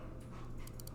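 A dog pants and faintly whimpers in a room, a low, continuous breathy sound with a few brief higher bursts near the end, fairly quiet and alone.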